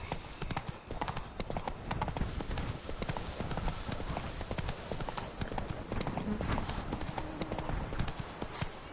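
Horse hooves gallop in a steady, rapid clip-clop rhythm, close and continuous from start to finish, with ambient game sound and no talk. The mount is a horse in The Witcher 3: Wild Hunt, Blood and Wine DLC, on PS4.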